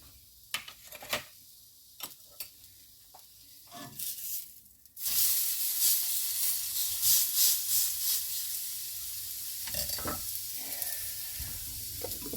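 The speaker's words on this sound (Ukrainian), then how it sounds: "І тепер все потрібно гарно змішати." Oil and mustard salad dressing stirred briskly in a bowl, first a few sparse clinks and taps, then a steady wet, hissing swish of whisking that carries on at close range without any talking.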